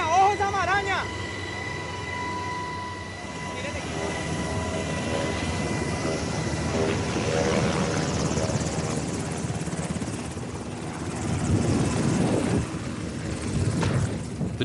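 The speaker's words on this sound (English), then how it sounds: "A helicopter drops off the first commando unit, then takes off to provide cover for the next group." A Colombian army military helicopter drops off a commando unit, its rotor chopping loudly at first and then settling into a sustained roar that swells again toward the end, with voices talking over it.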